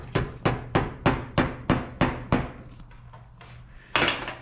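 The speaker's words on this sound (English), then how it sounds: "We'll just tap it down." A hammer taps down the CV boot clamp on a Polaris RZR during a boot replacement: about eight sharp, evenly spaced metallic strikes, then a pause and one more knock, close and clear.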